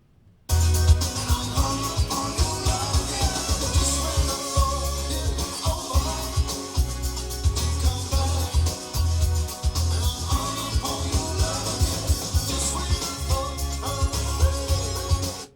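A recorded rock song plays with full band and steady drums; somewhere in the groove the drummer slips in a fill with accents and open hi-hats.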